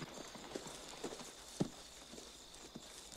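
A few soft hoof clops land irregularly over a quiet background, fairly faint, with one sharper knock partway through, from a horse in the film Unforgiven (1992).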